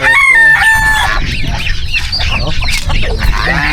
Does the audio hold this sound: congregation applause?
no